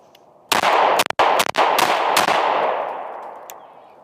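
Shots from a Smith & Wesson M&P 5.7x28 pistol fired one-handed: a fast string of about six loud, sharp cracks close by, followed by a long fading echo.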